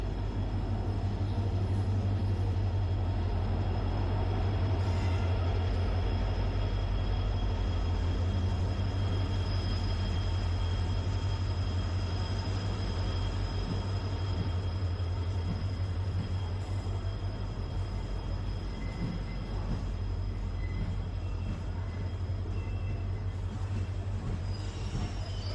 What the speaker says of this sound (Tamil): நம்மளுக்கான ட்ரெயின் பார்த்தீங்க அப்படின்னா இப்போ பிளாட்ஃபார்த்தில் என்ட்ரி ஆயிடுச்சு.